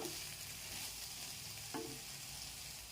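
Potatoes fry in a pan with a steady, even sizzle, joined by a brief scrape of stirring partway through, faint and close with no voices.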